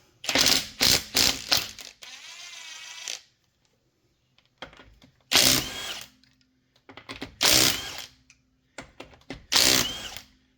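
A power wrench spins 19 mm lug nuts off a Subaru Crosstrek wheel in loud, close bursts of whirring and rattling, separated by quiet pauses and a few small clinks.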